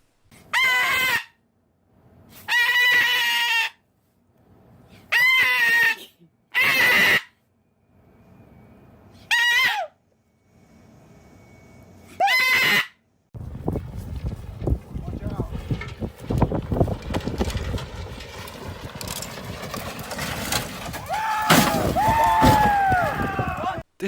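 A scared parrot lets out a series of loud, harsh screeches in short bursts separated by silences, followed by a stretch of rustling, clattering noise with another cry near the end.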